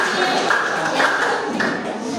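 Classroom of students clapping for a group coming to the front, a brief burst of many hands at moderate loudness with faint voices mixed in.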